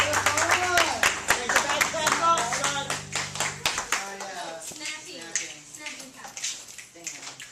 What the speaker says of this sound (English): Let's everyone give a big round of applause for Stefan.